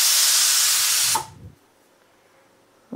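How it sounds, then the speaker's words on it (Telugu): Pressure cooker whistle on a stove while mango dal cooks, a loud steady hiss of escaping steam that cuts off abruptly partway through, leaving near silence. "ఒక విజిల్ అయింది, ఇంకో 2 రావాలి."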